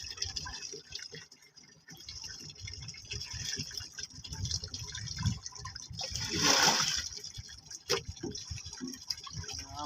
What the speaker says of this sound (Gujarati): પાણી નાખું છે મેં।